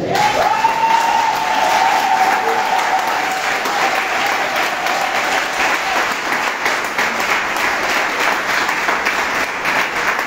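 A congregation in a church tabernacle loudly applauds a wedding couple, with steady, dense clapping lasting throughout and faint cheering mixed in.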